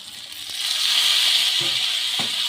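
Potatoes frying in hot oil in a home kitchen, right after fried green banana slices were lifted out: a steady, moderately loud sizzle and hiss running the whole time, with a couple of soft clinks of stirring.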